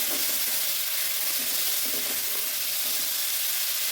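Chopped onion and two tomatoes sautéing in hot oil for a Tamil crab gravy, a steady close sizzle and crackle with faint stirring scrapes, no talk.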